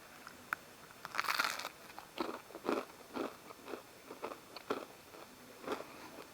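Crispy KFC-style fried egg being bitten and chewed up close, a series of sharp crunches followed by rhythmic munching, with no talking.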